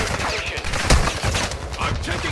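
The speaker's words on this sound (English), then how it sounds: "I'm taking fire!" Gunfire in a military shooter video game, a dense crackle of shots with one sharp loud report near the middle, mixed with game ambience and a voice speaking.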